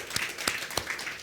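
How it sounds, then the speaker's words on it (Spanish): Brief, faint scattered applause from a church congregation, a few separate claps standing out against a soft wash of hand noise, with no voices. "dale un aplauso al Señor"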